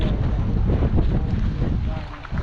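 Strong wind gusting across a fishing pier at the beach, a loud continuous roaring rush buffeting the microphone with no clear pauses.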